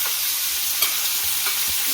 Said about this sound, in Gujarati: મસ્ત રીતે ડુંગળી ચડી જાય ને ત્યાં સુધી તેલમાં તળવા દેવાનું